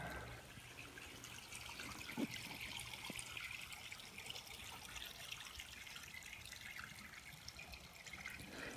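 Water trickles through a filter into a drained swimming pool, a continuous, steady splashing stream heard close up with no talk.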